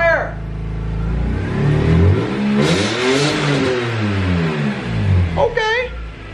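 A BMW E46 M3 engine rumbles and revs up and down in smooth swells, loud and close, easing off before a brief squeal near the end.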